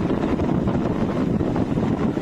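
Strong wind buffets the microphone in a loud, continuous roar, with a low rumble beneath and no talking, at a mangrove park on Boracay.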